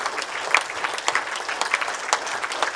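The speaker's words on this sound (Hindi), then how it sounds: "वैसे तालियां जितनी बजे उतनी कम हैं, लगातार बजे उतनी कम हैं" A seminar audience claps steadily throughout, with dense applause and a few sharper individual claps standing out, sustained and fairly loud with no voices on top.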